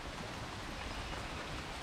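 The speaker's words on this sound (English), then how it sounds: "And then the rain comes." Rain pours down outdoors in a steady, dense hiss of broadband noise, loud and unbroken with no voices over it.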